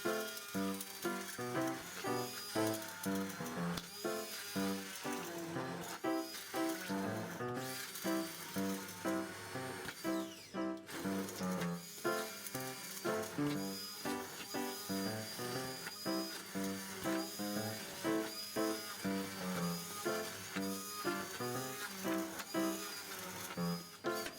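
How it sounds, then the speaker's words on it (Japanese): A hand blender purees a cauliflower sauce in the kitchen with a steady, rhythmic whirring and gurgling. The sound pulses in repeated strokes and stays fairly quiet, with no talking over it. "じゃあこちらハンドブレンダーでブレンドしていきます。"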